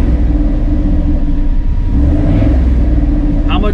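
A Shelby Cobra Daytona idles steadily through a freshly fitted dual exhaust with 2.5-inch pipes on each side, a loud, close, even low rumble with slight swells and no sharp revs.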